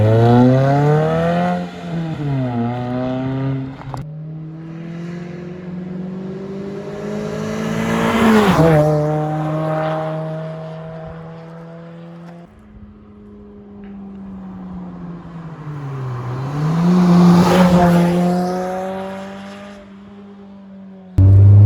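Suzuki Swift Sport engine revving hard on a road test drive, two long climbing runs through the gears with rising whine and shifts, loud and close, no talk over it.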